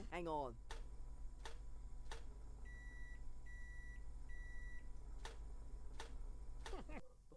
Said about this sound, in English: The toaster and the microwave. 3 short pops. 3 long beeps. 3 short pops.